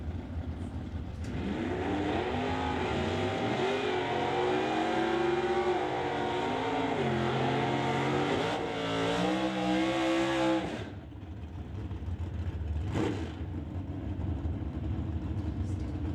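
A Super Stock drag-racing Chevelle built for wheelstanding launches revs hard at the start line, its engine a loud, sustained roar climbing and dipping through repeated throttle blips before easing off, with another car's engine close by.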